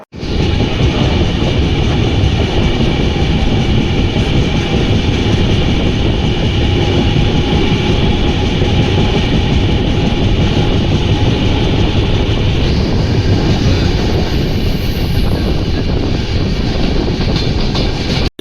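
A Madurai to Chennai train runs steadily on its rails, a loud continuous rumble with faint clickety-clack from the wheels throughout, and no voices.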